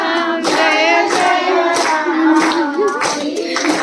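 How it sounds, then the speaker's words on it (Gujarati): A group of people clap along to a devotional Ram bhajan chant, their claps repeating in a steady rhythm under continuous loud singing. "કશે પહેલો તાળી ભરવા માંડ્યા"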